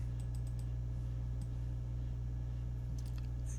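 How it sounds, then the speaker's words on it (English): Mouse clicks while placing ship plans in a shipbuilding video game, a few faint quick clicks near the start and a cluster near the end over a steady low electrical hum. "Let's go ahead and double click it."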